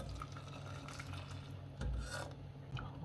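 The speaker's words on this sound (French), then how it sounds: "On va bien mélanger pour faire fondre la farine." Hot milk being stirred into a butter and flour roux for béchamel sauce, a steady close scraping rasp of the utensil against the pan, with a brief louder stroke midway and no talk.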